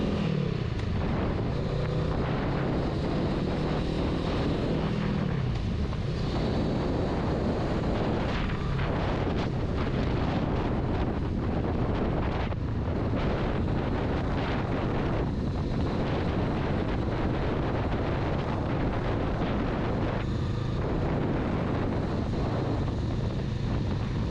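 A 2021 Honda Rebel 500 ABS rides along a street in second gear, its engine a low drone half buried under heavy, constant wind rush at the microphone.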